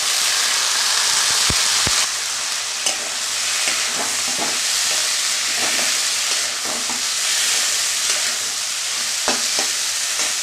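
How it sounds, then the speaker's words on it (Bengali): Flat bean seeds dropped into hot spiced oil, a loud steady frying hiss with scattered scrapes and taps of a spoon stirring them through the pan. "এবার আমি সিমের দানাগুলো দিয়ে দিচ্ছি।"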